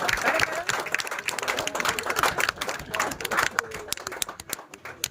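A crowd applauding for Sahilbhai, dense close clapping that holds steadily for several seconds before thinning out near the end.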